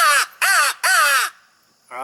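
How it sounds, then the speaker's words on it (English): Three loud, close crow caws are blown on a hand-held crow hunting call, each harsh and slightly falling, followed by a brief pause and the start of a fourth. "this is a crow call"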